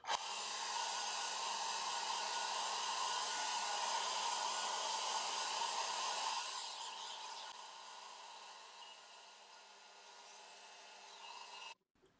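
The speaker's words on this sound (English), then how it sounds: "Now again, I'll just dry it off with the hairdryer." A hair dryer blows steadily to dry a freshly coated turned ash elbow piece, a loud continuous whooshing roar that drops in strength partway through before clicking off near the end.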